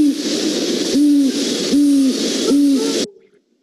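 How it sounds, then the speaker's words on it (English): An owl hoots four times in an even rhythm, each call a clear, loud, close hoot with a slight hiss around it, and then the sound cuts off abruptly. "Each species of owl makes a different call."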